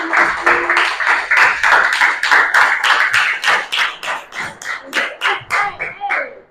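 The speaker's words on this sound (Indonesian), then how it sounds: "Beri tepuk tangan sekali lagi." A small classroom group claps together in bursts with a loose pulsing rhythm, close and fairly loud, with faint voices underneath.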